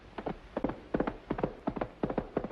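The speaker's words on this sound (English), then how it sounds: "Now we have the horse's hoofs." Steady clip-clop hoofbeats of a horse sound effect in paired groups repeat at an even trotting rhythm, crisp and close, on a radio show.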